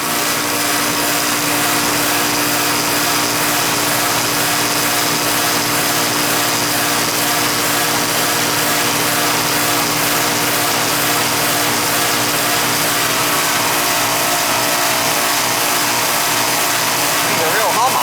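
An older Goodman central air conditioning unit hums steadily and loudly with a constant mechanical drone that holds throughout.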